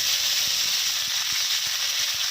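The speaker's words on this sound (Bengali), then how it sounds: "এর মধ্যে পেঁয়াজ বাটা দিয়ে দেবে।" Onion paste fries in a hot pan with a steady, loud, hissing sizzle, close up and continuous, with faint low taps underneath and no talking.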